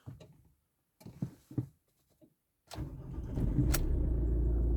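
A 2008 Ford Focus Cabriolet with a non-start fault: a few clicks and key or switch noises, then the starter cranks and the engine catches into a steady idle, close by.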